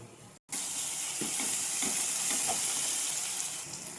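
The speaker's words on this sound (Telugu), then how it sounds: "ఇప్పుడైతే టమాటీ పీసెస్ని వేసుకుందాం వేసి ఇక్కడ బాగా కలుపుకుందాం" Tomato pieces hit hot oil with curry leaves in a pan for Andhra-style gongura chicken curry, giving a loud, steady hissing sizzle with scraping stir strokes after a brief cut at the start.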